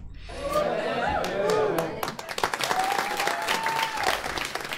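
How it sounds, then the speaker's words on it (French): A crowd breaks into loud applause and cheering, with claps and excited shouts building over a few seconds and a voice rising above the noise. "On voit que les acclamations là, c'est plutôt positif, c'est genre waouh, bien joué"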